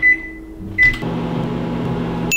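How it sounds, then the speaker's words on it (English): A microwave oven starts with beeps and then runs with a loud, steady hum close by, with another beep at the end. "we're going to pop it in the microwave for 1 to 2 minutes"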